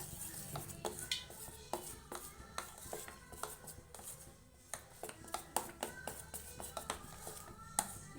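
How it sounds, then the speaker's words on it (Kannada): Bonda batter being hand-mixed with hot oil in a bowl, giving repeated wet slapping and squelching pats in an irregular rhythm, close and moderately loud, with light clinks of a vessel and no talking. "ಇದಕ್ಕೆ ಕಾದಿರಿ ಎಣ್ಣೆ ಹಾಕ್ಬಿಟ್ಟು ಇದಕ್ಕೆ ಮಿಕ್ಸ್ ಮಾಡ್ಕೊಳ್ಳೋಣ"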